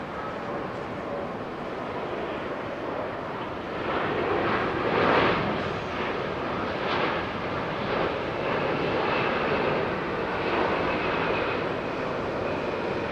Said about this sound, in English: Applying the reversers before the front wheel touches the ground.